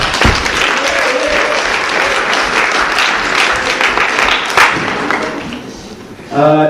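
An improv show audience claps loudly as a performer leaves the room, a full burst of applause that gradually thins out before a voice begins talking at the end.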